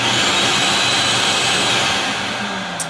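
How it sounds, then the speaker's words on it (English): A shop vac already roaring loudly, a dense steady airy whoosh that tapers off slightly toward the end, with no talking. "So there's how I turn on my shop vac."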